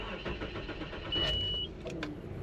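A 1995 Nissan Pathfinder XE with an aftermarket starter gives a short whine as the key is released, heard over the steady hum of the running engine close by.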